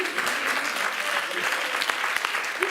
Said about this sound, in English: Let's give them applause.